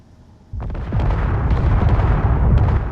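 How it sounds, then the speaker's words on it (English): Explosives detonate in the Space Engineers video game: a loud blast erupts after half a second of near silence, then a dense, sustained rumble of crackling bursts and pops that keeps roaring to the end. "that was quite the explosion"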